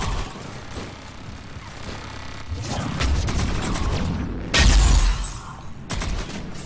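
Biotic explosion in the video game Mass Effect 3: a burst of crashing, shattering energy rises amid ongoing combat noise, with a loud peak and a further impact just after.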